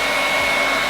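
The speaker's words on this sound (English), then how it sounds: "Wait, I need my blow dryer." A blow dryer runs at full power, a steady close whooshing roar used to dry a layer of wig glue during a frontal wig install.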